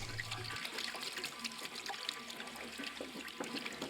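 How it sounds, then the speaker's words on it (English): Water running through a funnel into a lidded rain barrel, a steady trickling and splashing flow with no voices, moderately quiet and continuous throughout. "ran a few gallons of water through the funnel."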